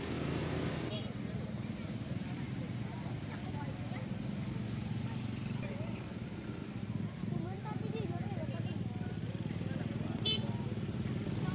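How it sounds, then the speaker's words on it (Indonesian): A convoy of motorcycle gang members rides along a main road in Maros Regency, South Sulawesi, giving a steady, dense drone of engines and traffic that lasts throughout, with voices mixed in. "membubarkan konvoi anggota geng motor di Jalan Raya Kabupaten Maros, Sulawesi Selatan"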